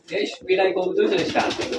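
Rajshahi Giribaj pigeons on a loft farm give low, throaty coos close by, mixed with people talking over them.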